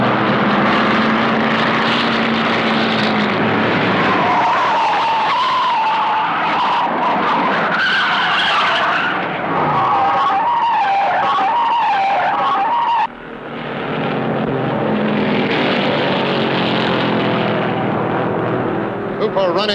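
Late-1950s stock cars, including a 1959 Oldsmobile and a 1958 Ford, roar flat out on a Carolina oval with loud, continuous engine drone and tire squeal, the pitch shifting as the cars pass, while a commentator talks over the racing.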